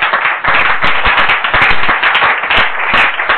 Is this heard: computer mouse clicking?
no